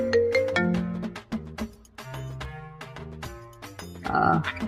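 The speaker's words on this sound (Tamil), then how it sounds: "இங்கே ஃபோன் அடிக்கிறாங்க" A mobile phone rings with a steady melodic ringtone, repeating tonal notes playing continuously at moderate volume, with no talking over it.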